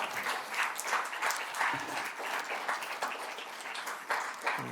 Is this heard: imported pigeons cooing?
no